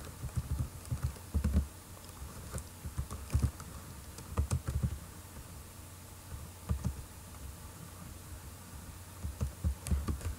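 Keys clatter in quiet irregular bursts on a computer keyboard while someone types out web form code, soft clicks with brief pauses and no talking.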